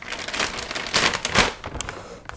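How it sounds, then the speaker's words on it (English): Crinkling and rustling of a Mylar foil bag holding coffee as it is opened, irregular bursts of crackly noise close by, no talking. "the crinkle of the Mylar bag this is in"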